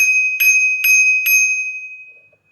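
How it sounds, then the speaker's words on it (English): The manual bell on a DYU C3 electric bike rings four times in a steady rhythm, bright and close, with the last ring fading into silence. "You do have a bell, manual bell here."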